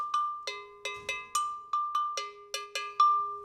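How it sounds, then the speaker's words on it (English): West African gankogui, an iron double bell, struck in a lively pattern alternating between its low and high bells, ten or so clear ringing strikes, close and unaccompanied. "The gankogi, it's a beautiful instrument. It represents beautiful iron work that is centuries old in West Africa."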